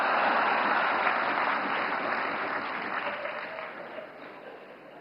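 A hall audience at the Navkar Mahamantra Divas event claps in a dense, sustained round of applause that gradually fades over several seconds, with no voice on top.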